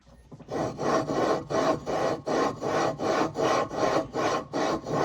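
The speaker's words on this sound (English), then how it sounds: "I put some of the compound on the crank and I'm going to put the flywheel on and start turning it for about 30 to 60 seconds" A small-engine flywheel is turned back and forth by hand on a 196cc clone crankshaft smeared with lapping compound, giving steady gritty rasping strokes at a regular rhythm, about ten close, even passes with no talk.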